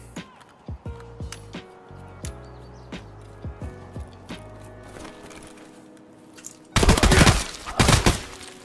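Gunfire in Escape From Tarkov: a run of single, spaced shots at first, then a loud, fast burst of automatic fire near the end, close and sharp, with no talk.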